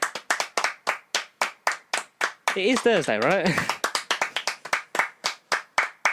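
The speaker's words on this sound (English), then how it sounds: "Everyone join in. Clap for the NHS." Two podcast hosts clapping their hands, sharp, evenly spaced claps close to the microphone, broken midway by a brief spoken line before the rhythmic clapping resumes.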